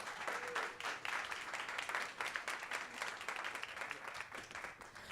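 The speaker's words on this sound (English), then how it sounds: "Come on, a big applause here." A conference audience at a tech inclusion event claps steadily in sustained, dense applause with no pauses, heard from some distance and fairly faint throughout.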